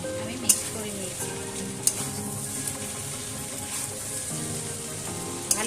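Chowmein being stirred and tossed in a hot pan, a steady sizzle with scraping spatula strokes and a few sharp clinks against the metal.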